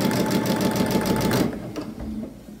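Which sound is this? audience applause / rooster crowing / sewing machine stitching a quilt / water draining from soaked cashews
sewing machine stitching a quilt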